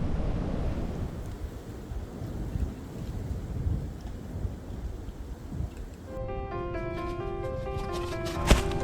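Strong gusts roar steadily through a forest at a stealth campsite, a broad continuous rush with buffeting against the microphone, ending in a few faint tonal notes.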